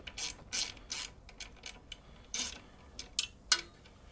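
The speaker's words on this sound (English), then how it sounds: "The nut using a ratcheting wrench." A ratcheting wrench turns the nut on a floorboard bolt of a Harley-Davidson Softail, giving a quick series of close, crisp clicking bursts in uneven rhythm with short pauses between strokes and no voices.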